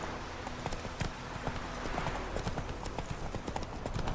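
Roach the horse gallops in The Witcher 3: Wild Hunt, with a fast, steady run of hoofbeats close by that carries on without a break over a faint game background.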